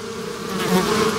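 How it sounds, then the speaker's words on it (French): A swarm of honeybees hums and buzzes close by, a dense, wavering drone that swells slightly partway through, with no talk. "C'est le cas des abeilles."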